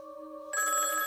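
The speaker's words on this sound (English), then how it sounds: "A seemingly ordinary payphone that's been ringing for 27 years." A payphone in a small town rings, a steady electronic tone that jumps to a brighter, louder ringing halfway through, with no voices.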